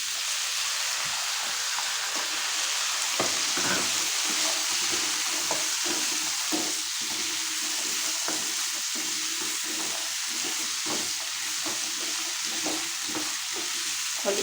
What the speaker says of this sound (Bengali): দেখুন আলুটা একটুখানি অল্প ভাজা ভাজা হয়ে গেছে।